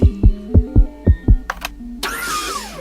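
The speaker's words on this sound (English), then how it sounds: "the winning sounds are... Spooky wind and" Fast heartbeat sound effect from a video game, six loud, deep, evenly spaced thumps in quick succession, followed by a short electronic whoosh and a swelling synthetic tone.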